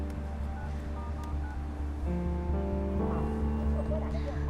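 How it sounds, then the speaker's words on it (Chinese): A phone being dialed in a film scene, a short series of steady electronic keypad tones over background music. "还是得打电话问一问"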